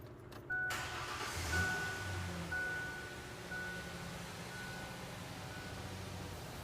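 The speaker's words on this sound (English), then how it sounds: "I'm going to start the vehicle." A vehicle engine fires up and settles into a low, steady idle during a transmission fluid exchange, faint and continuous with a few thin tonal beeps near the start.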